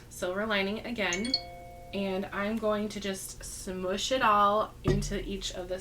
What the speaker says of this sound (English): Pardon the phone chime.